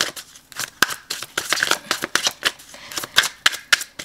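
A tarot deck is shuffled by hand, close and crisp, with rapid riffling card flutters and soft taps coming in quick irregular bursts.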